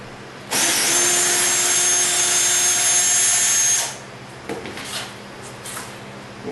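A power drill backs screws out of a router sled for making fluted columns: one loud, steady whine lasting about three seconds, then stops, followed by faint handling clatter.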